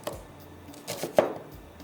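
A knife chops onion on a board in a few sparse, close taps, with one sharper knock near the middle and quiet between the cuts.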